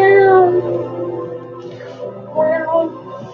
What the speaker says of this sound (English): Got a cat in the background.